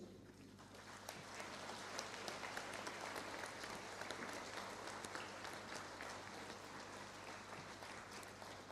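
Sustained applause from a convention audience fills the whole stretch, steady dense clapping at moderate distance with no voices standing out.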